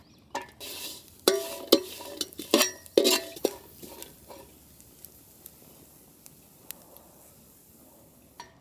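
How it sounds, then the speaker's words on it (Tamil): Pirandai (adamant creeper) frying in a pan, a spatula scraping and clattering loudly in quick bursts at first, then fading to a soft sizzle with occasional faint taps. "அழகான பிறண்ட கொடுத்தா வறுத்து எடுத்துக்கணும்க்கா"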